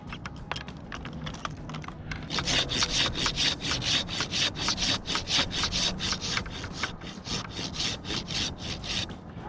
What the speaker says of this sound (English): I'm actually going to finish it with a handsaw.